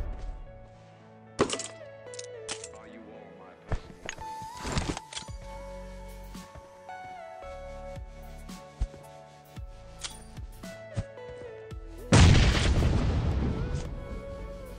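Several grenades going off in PUBG, sharp scattered booms and thuds among game sounds, ending in a louder, longer explosive burst near the end.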